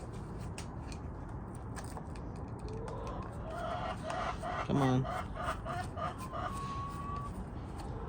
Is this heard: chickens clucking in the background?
yes